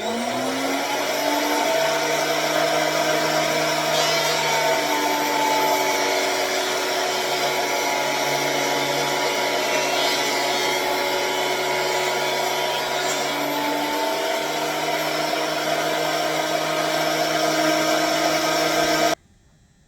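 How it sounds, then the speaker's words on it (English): Wood slats from scrap wood fed through a thickness planer, a steady loud motorized whine with a rising cutter hum that runs continuously and cuts off abruptly at the end. "I'm just going to run all of these through the planer"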